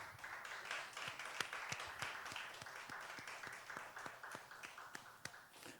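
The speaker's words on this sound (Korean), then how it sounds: "우리 청년들 우리 박수로 한번 격려를 합니다" A church congregation at a Friday late-night prayer service claps to encourage the young people, many hands joining in a fairly even, rhythmic patter of distinct claps, steady and moderately distant, with no voices over it.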